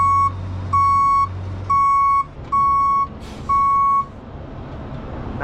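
A dump truck's reversal alarm sounds five steady evenly spaced beeps while backing up, loud and close over a low engine rumble that continues after the beeping stops.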